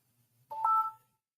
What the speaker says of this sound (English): Sorry, I thought I muted my phone.